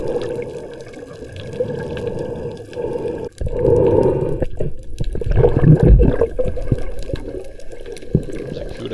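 Scuba diver's exhaled bubbles rising about 25 feet underwater, a steady muffled burbling with louder gurgling bursts in the second half, close to the microphone with no talking.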